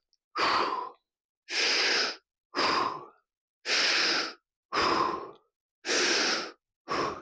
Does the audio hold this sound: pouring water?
no